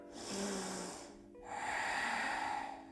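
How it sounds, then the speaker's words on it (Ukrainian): Two deep breaths drawn during a yoga breathing exercise, each a long airy rush lasting about a second, close and fairly loud, with a short pause between them and no talking. "Вдих. Вдих. І ще вдих."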